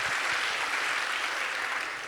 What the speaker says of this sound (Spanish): Démosle un aplauso a Dios por Willy